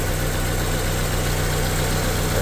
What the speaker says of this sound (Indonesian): ini nampak terdengar suara mesin super halus